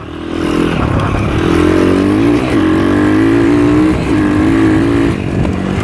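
A motorcycle ridden through two or three bends, its engine a steady loud drone that dips and rises in pitch as the throttle eases and opens again through each turn.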